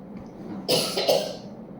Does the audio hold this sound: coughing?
yes